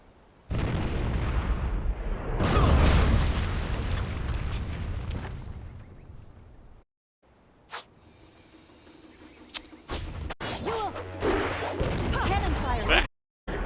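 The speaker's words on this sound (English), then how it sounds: "Cannon fire." Cannon fire in the video game Jade Empire, a run of heavy booming blasts with rumbling decay, then quieter combat thuds and sharp impacts between brief silences.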